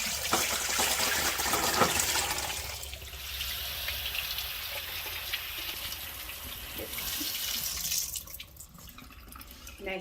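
Running water from a kitchen sink tap pours over blueberries in a colander, a steady near gush with splashing that shifts in tone midway and eases near the end.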